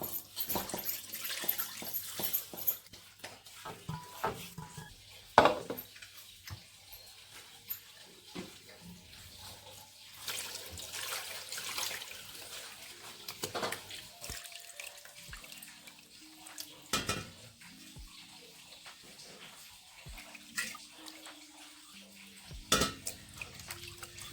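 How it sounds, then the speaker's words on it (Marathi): Rice is rinsed with water in a pot, giving intermittent splashes, pours and drips with occasional clinks of the vessel, fairly quiet and close, with no talk. "पाण्यातून धुवून काढायचे हे असं पाणी टाकून आपल्याला धुवून घ्यायचे तांदूळ"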